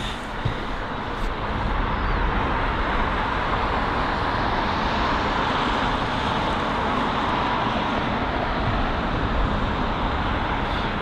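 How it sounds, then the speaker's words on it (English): A Virgin Atlantic Boeing 787-9 Dreamliner arriving at London Heathrow produces a broad, steady roar of jet noise heard from a distance, sustained throughout without speech. "it is the Virgin Atlantic 787-9 Dreamliner, arriving from Montego Bay on its 8-hour and 23-minute long journey"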